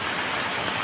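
Rain falls steadily on a fishing spot by the water, a dense even hiss, loud and close, with no voices.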